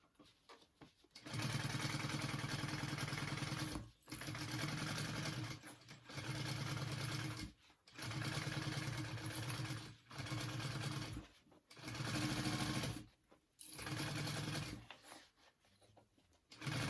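A sewing machine stitches a seam on a fabric bag in steady bursts a few seconds long, broken by short pauses, loud and close with no talking.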